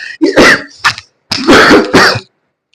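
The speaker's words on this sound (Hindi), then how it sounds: "आज खांसी ज्यादा हो रही है" A loud, close fit of rough coughing and throat clearing, four or five harsh bursts in quick succession, then quiet.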